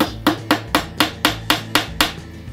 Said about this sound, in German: wenn man diese Multi-Hammer verwendet, dass er wirklich nicht gut hämmert